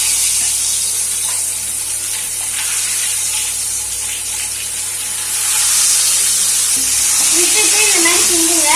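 Nendran banana chips sizzle and hiss steadily in hot oil, a continuous close frying crackle that swells louder toward the end as a voice speaks faintly in the background.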